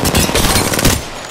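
Loud, dense automatic gunfire from an Apex Legends match, with rapid shots packed into a continuous rattle that runs steadily and eases off slightly at the end.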